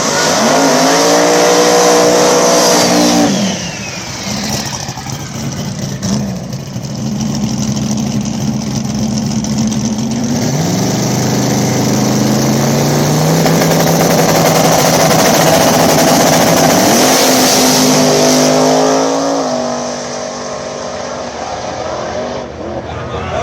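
Outlaw small tire drag race cars at Mooresville, with loud roaring engines launching and revving hard through gear changes, rising and falling as they pass, a commentator talking over the din.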